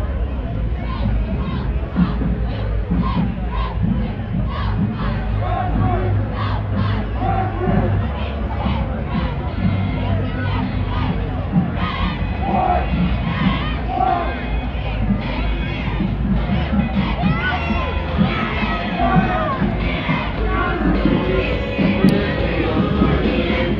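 A high school cheer and stunt team shouts loudly at a 2011 holiday parade, with a dense, continuous wall of crowd noise, yelling and chatter filling the outdoor street scene throughout.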